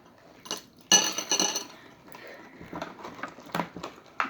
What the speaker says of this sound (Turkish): Birazcık da su ekleyelim buz çorbamıza